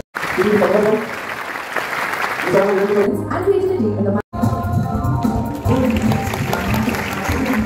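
An audience at a stage event claps for guests called up to the stage, a sustained burst of applause with a voice over a microphone speaking over it, briefly cut off midway before the clapping resumes.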